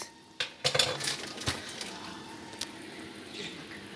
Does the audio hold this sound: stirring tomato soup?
yes